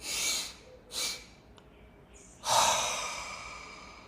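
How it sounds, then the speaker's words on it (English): A deep breath during a pranayama breathing exercise: two short breathy exhalations, then one long, loud intake of breath that slowly fades, close and clear with no talking. "Breathe in. The last one, breathe in."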